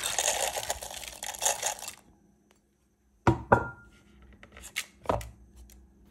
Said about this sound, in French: Je verse le tout dans mon robot mixeur.